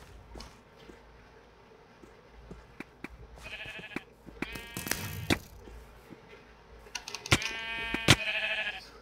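Sheep in the video game Sheep Quest 2 bleat in short harmonic calls scattered among soft clicks and taps, quiet at first and growing louder toward the end, with no talk.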